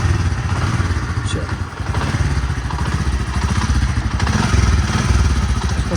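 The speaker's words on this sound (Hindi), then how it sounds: "बाइक स्टार्ट करता हूँ," Motorcycle engine running at steady idle, a loud close low-pitched putter throughout, with someone speaking briefly over it.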